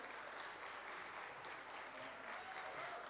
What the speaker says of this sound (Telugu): సార్, ఈ చప్పట్లు ప్రోటోకాల్ కి కాదు సార్